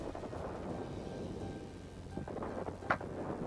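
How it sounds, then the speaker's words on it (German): A heavy storm rages in a flying video game, with a steady dense roar of rain and wind and low rumbling thunder underneath, fairly faint and continuous throughout. "Hier wütet ein schwerer Sturm."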